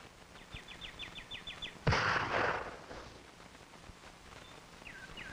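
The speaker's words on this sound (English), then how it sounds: "Wayne's checking out a 22 target rifle" A single sharp report from a Remington 540X .22 target rifle fired at a shooting range, loud and sudden with a brief decay, heard among faint chirping birds.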